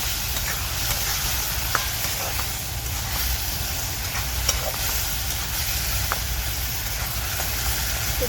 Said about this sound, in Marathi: तर आता मी परतून घेते भाजी